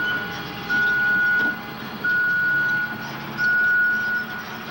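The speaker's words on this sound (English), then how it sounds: "The beeping sounds more threatening." A demolition machine emits repeated steady electronic beeps in long evenly spaced tones over a low engine hum and background noise during a building demolition.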